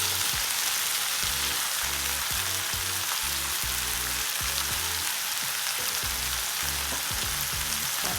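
Eggplant is frying in oil in a pan with softened onion for a spicy garlic stir-fry. It gives a steady, close hiss of sizzling with soft rhythmic thuds from stirring throughout.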